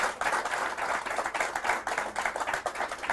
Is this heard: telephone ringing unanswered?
no